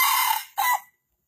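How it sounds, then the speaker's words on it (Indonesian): A jungle fowl rooster crows once, close and loud, in a short two-part call that cuts off abruptly into silence. "Ini dia ayam untuk kau, nah."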